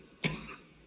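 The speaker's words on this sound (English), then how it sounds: "I cough and weep." A single short cough rings out near Farringdon Station, fairly faint, followed by quiet.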